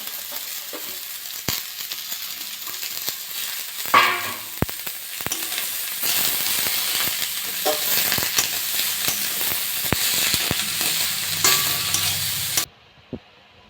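Capsicum and carrot stir-fry in a pan for a veg momo filling, giving a continuous close sizzle with repeated sharp spatula clacks and scrapes. The sound cuts off abruptly near the end.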